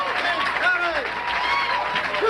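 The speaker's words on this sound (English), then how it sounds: "Let's have a big round of applause." Studio audience clapping and cheering for comedian Bob Worley at a stand-up comedy show, a dense, steady wash of applause with a few whoops and voices rising above it.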